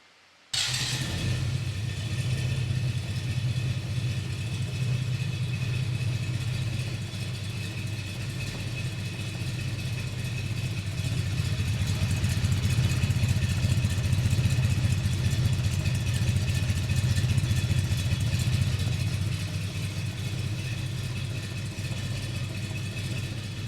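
A 366 big block Chevy V8 runs out of the car, loud and raw, with a steady deep rumble that holds for over twenty seconds, swelling slightly midway, close and without talk.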